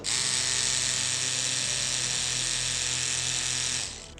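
Cartridge-needle tattoo machine runs loudly and steadily for about four seconds, a close, even buzzing hum that stops at the end, with no talking.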